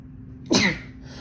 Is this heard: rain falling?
no